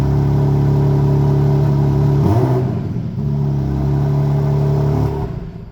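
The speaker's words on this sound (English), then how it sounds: "That's what it sounds like when it's started up." A 2026 BMW M2 CS exhaust rumbles at a steady idle after starting, blips briefly higher then settles back into a deep burble before tapering off.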